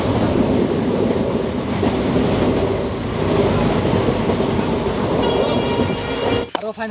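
A train runs on rails on a trip toward Guwahati in Assam, with a loud, steady rumble and rattle throughout and faint voices underneath, ending in a few abrupt knocks and clatters.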